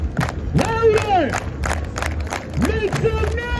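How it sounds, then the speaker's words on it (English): A street crowd at Times Square, New York, joins in around a street dance performance, with loud shouts and cheering voices rising over a background of hand claps and general crowd noise. "Everybody clap your hands."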